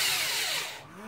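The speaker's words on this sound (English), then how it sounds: "He's drilling a hole in the wall." A power drill bores a hole into a wall to mount a TV bracket, giving one close, loud whine that sags in pitch and fades toward the end.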